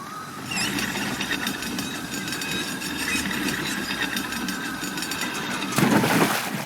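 A motorboat engine in the video game Call of the Sea, a steady droning idle with a vibrating rattle that swells louder near the end, close and continuous with no speech.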